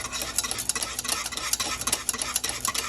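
A honey glaze sauce with ground red pepper simmers and thickens in a pan, giving a steady bubbling sizzle broken by close, irregular scraping and stirring ticks, with nobody talking.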